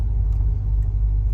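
A 1972 Ford Thunderbird with a reworked exhaust system rumbles steadily while driving, a deep, even low-pitched engine drone heard from inside the car with no talk.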